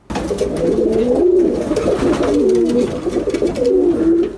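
Several pigeons coo in low, rolling repeated phrases, close and fairly loud, with a faint rustle behind them.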